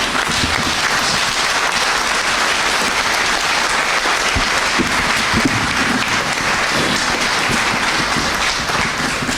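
Sustained crowd applause welcomes a dignitary at a parish gathering in Meru Township, a dense, steady clapping that fills the whole stretch without fading.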